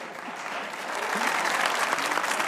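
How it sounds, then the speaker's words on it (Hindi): Studio audience applause on a Pakistani comedy talk show, welcoming a guest onstage: dense, sustained clapping that builds slightly and stays loud throughout. "प्लीज सुसर साहब, भरपूर तालियों में सुसर।"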